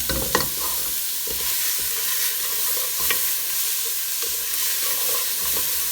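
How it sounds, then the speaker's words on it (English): Onions softening in a pan over low to medium heat for an aubergine and potato dish, with a steady close sizzle broken by scraping stirs and a few utensil taps, no voices. "We're just going to soften the onions a little bit for a minute or two."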